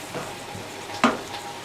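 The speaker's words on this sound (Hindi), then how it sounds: "हमारी जो चिकन है ना ये फ्राई हो रही है प्याज और लहसुन के साथ" Chicken pieces frying in a pan with onion and garlic, a quiet steady sizzle with soft stirring and one brief sharp clink of a utensil against the pot.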